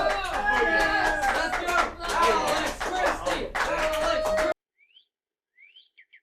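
A live studio audience at a morning web show erupts in loud, sustained cheering, clapping and shrill whistling for about four and a half seconds, then cuts off abruptly into near silence with a few faint chirps.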